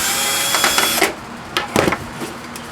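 Whirring bursts of a power screwdriver backing screws out of a VCR being scrapped, a few short buzzing runs with pauses and small clicks between them.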